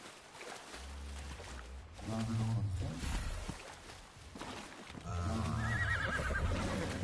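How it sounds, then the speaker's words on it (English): A horse whinnies twice in the survival video game Ark Survival Ascended, loud, drawn-out neighs with breathy snorts between them, heard alone without talk. "There's a horse."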